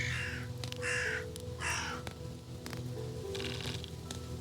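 Crow-like birds on a mountain give several loud, harsh caws in irregular bursts, some close together and one later, fainter call, over a constant low hum.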